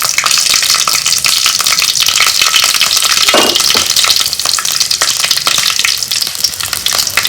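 Green chilies fry in two spoons of hot oil in a pan, a loud continuous sizzle with crackling bursts and the occasional scrape of stirring.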